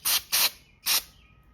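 Cleaner sprays onto the carburetor of a 110cc dirt bike in three short hissing bursts, two close together and then one after a pause, loud and near with quiet gaps between.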